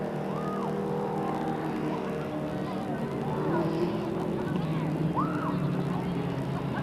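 Dwarf race cars roar around a speedway, engine drone rising and falling as they pass at a distance, with an announcer talking over the noise.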